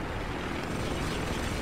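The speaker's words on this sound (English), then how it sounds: "Oh, more helicopters." A steady, loud whirring roar of helicopter rotors in the video game Spec Ops: The Line fills the brief moment, constant and close with no voices.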